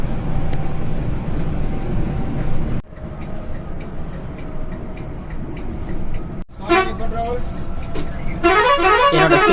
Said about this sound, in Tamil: என்னோட ஃபேவரட் ஹார்னா இந்த ஹார்ன் தாங்க